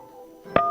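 A telephone is dialed, its keypad tones sounding as two short, fairly quiet beeps after a low background hum.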